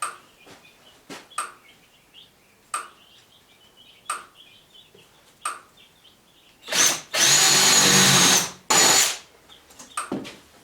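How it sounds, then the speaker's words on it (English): A power drill bores holes for 1/2-inch bolts in a homemade fence stretcher, with several short revving bursts followed by one longer, loud drilling run, heard close and with nobody speaking. "the first thing I'm going to do is get my holes drilled"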